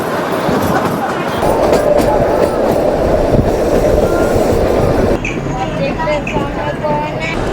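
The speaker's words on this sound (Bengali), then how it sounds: "এই কালকা সিমলা টয় ট্রেনে জার্নি করব" Kalka–Shimla toy train rumbling steadily along its mountain route, with continuous wheel and carriage noise heard from on board and a change in tone partway through, as though entering a cutting or tunnel.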